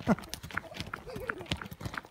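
Horse hooves clip-clop at a trot during an outdoor riding lesson, several quick, uneven thuds close by, with people talking over them.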